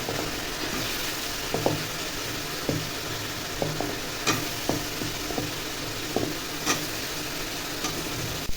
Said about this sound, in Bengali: মাশরুমটাও দিয়ে দিলাম, দিয়ে একটু কষিয়ে নিলাম।